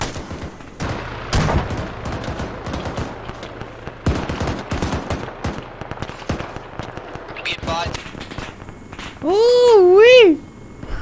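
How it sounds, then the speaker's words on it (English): Gunfire in the game ArmA 3 during a helicopter-supported convoy operation: dense, rapid bursts of automatic shots crackle for several seconds, then a loud rising-and-falling whine takes over near the end. "He just got shot at a ton."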